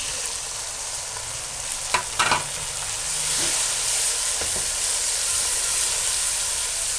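Tomatoes and chilies hit hot garlic paste in a pan, giving a loud, steady sizzle with a few clinks and stirring scrapes near the start, then continuous close frying.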